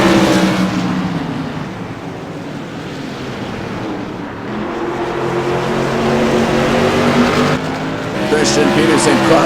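Modified race cars circling Martinsville Speedway during a CRA Modified Madness Tour event: a loud, continuous roar of several engines that swells as cars pass nearby, with a commentator talking over the noise throughout.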